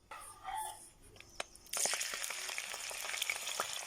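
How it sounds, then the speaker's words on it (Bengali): Freshwater shrimp hit hot oil in a pan: after a quiet start, a sudden close sizzle bursts out and carries on as a dense, crackling fry with scattered pops. "পরিমাণ মতো তেল দিয়ে আগে চিংড়ি মাছগুলো আমি একটু খুব ভালোভাবে ভেজে নেব"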